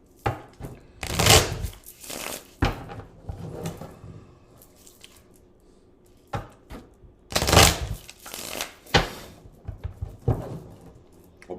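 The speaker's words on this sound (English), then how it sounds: "Let me give this a couple of shuffles." Tarot cards being shuffled by hand, a few brisk riffling bursts separated by quieter handling and tapping, close and moderately loud with no talk.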